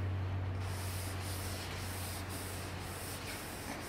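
A clay bar is rubbed over freshly painted clear coat on a widebody AMG, giving a faint, steady hiss with soft rhythmic strokes over a low hum, close up and without talking.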